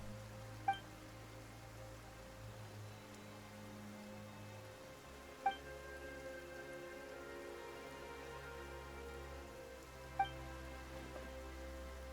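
Steady rain falls in a Genshin Impact scene, a soft continuous hiss of drops on surfaces, with three faint sharp ticks spaced evenly through it and no voices.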